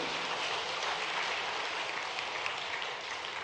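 An audience clapping at a state-level government workshop in Bhopal, continuous dense applause filling the room at an even, steady loudness with no speech.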